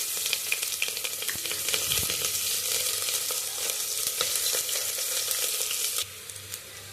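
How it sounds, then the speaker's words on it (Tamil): Onion fries in hot oil with cinnamon and cloves for a carrot and bean dish, giving a loud, dense close sizzle with crackles and stirring knocks. The sizzle drops sharply near the end, and no one talks. "ஆயில் சூடானதும் பட்டை, கிராம்பு, இந்த ஸ்பைசஸ் எல்லாமே இப்போது ஆனியன் சேர்த்துக்கலாம்"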